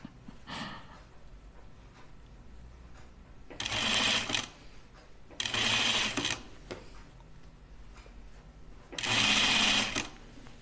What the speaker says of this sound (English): it's actually sewing really nicely